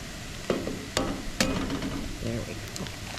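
Chicken eggs being scrambled in a pan, with a utensil stirring and scraping in a few sharp knocks over a steady low sizzle, close up and without speech.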